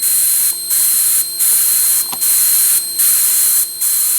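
A spray gun lays down liquid powder coat in five or six loud, even bursts of hiss, each about half a second long, separated by short pauses, with a faint steady tone beneath.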